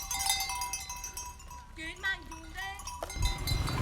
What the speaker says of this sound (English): here's some goats and buffalo passing through